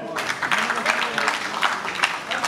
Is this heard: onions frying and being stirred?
no